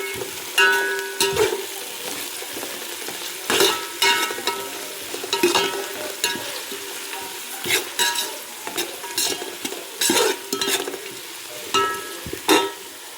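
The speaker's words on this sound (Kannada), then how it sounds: "ಫಸ್ಟೇ ನಾನು ಸೊಪ್ಪುಗಳನ್ನ ಹಾಕ್ಕೊಂಡು ಫ್ರೈ ಮಾಡ್ಕೊತಾ ಇದ್ದೀನಿ" Herb greens frying in hot oil in a pan for chicken biryani, a steady crackling sizzle broken by repeated scraping stirs of a spoon, close and continuous.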